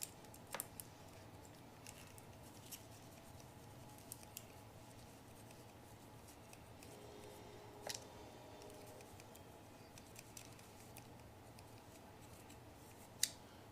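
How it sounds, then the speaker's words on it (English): Scissors snip through Mylar sheet while lights are added to a Ghostbusters proton pack, a quiet run of small cuts with a few sharper clicks, close but faint. "Gonna end up taking and just trimming the Mylar."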